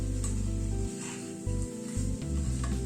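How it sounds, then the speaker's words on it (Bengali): Soft stirring and a faint sizzle as fried potato and beans are mixed into simmering dal in a pan, low and close, with a steady background hum and no talking. "এবার আলু বিনসটা মিশিয়ে দিচ্ছি।"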